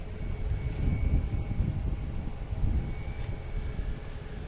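A British Airways airliner takes off from runway 15 right at Boston Logan, a steady low, broad roar of jet engines heard from a distance outdoors, with wind rumble mixed in and no one speaking.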